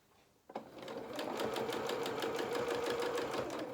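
After a sharp click, a sewing machine starts stitching a curved seam on a lamb doll's head with a short stitch length. The needle chatters in a rapid, even, nearby rhythm for about three seconds.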